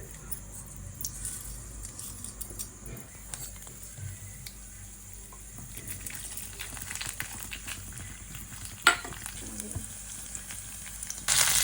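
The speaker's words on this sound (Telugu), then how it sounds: "ఆయిల్ అందులో తాలింపులు వేసుకుంటున్నాను ఆవాలు శనగపప్పు మినప్పప్పు అన్నీ వేసుకుని తాలింపు వేసుకుంటున్నానండి" Mustard seeds, chana dal and urad dal sizzle in about two spoons of hot oil for a tempering, a soft steady frying hiss with scattered small pops and occasional clinks of a utensil.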